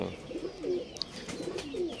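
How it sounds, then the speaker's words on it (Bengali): Pigeons cooing close by, several soft throaty coos repeating in a steady rhythm, with a brief faint chirp in between. "এই কবুতরগুলা ট্রেনিং চলতেছে ওদের ফ্লাইংয়ে"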